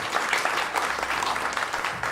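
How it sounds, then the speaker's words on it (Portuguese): Audience applause fills a hall at an academic tribute, a dense steady wash of many hands clapping together, close and continuous for the whole short stretch without a break. "para quem eu peço uma salva de palmas"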